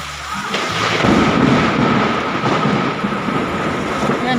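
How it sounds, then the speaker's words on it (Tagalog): Loud thunder rolls in a long, rumbling boom that swells after a brief quieter start and holds heavy and close, with rain and wind hiss underneath. "narinig nyo naman malakas ang kulog"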